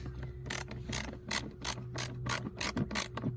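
A ratcheting screwdriver tightens a bolt on a 2021 Tesla Model 3 door, giving a steady run of sharp, close clicking bursts in quick rhythmic strokes over a faint background hum.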